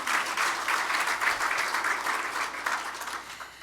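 Applause at an awards dinner for sponsored high school students, a dense room-filling clatter of many hands clapping steadily, moderately loud, then slowly tapering off.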